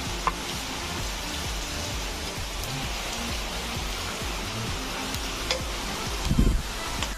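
Okra frying in hot oil gives a steady, dense sizzle throughout, with a few brief louder crackles and a short burst near the end as pieces are stirred or lifted out.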